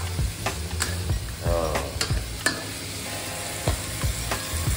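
Salted fish frying in a pan, with a steady hiss of hot oil broken by repeated sharp scrapes and clinks of a utensil stirring and turning the pieces, close and fairly loud.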